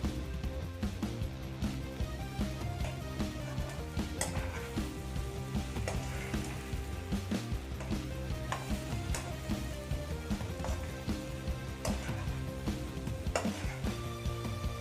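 Egg chilli bread fries in oil in a pan, a continuous close sizzle with frequent clinks and scrapes of a utensil stirring against the pan, no one speaking.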